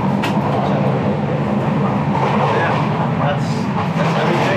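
An Indian sleeper train runs at night with a loud, steady rumble and rattle of the carriage, and people talk over it throughout.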